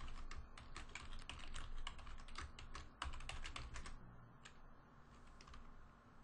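Computer keyboard typing in steady bursts of clicks over a constant low hum, with a brief pause near the end and a few final keystrokes, fairly quiet and without talk.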